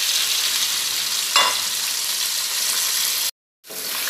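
Prawn curry with pineapple and Penang nyonya curry paste stirred in a pan, a steady close sizzle with one brief scrape of the spoon before a short break in the sound.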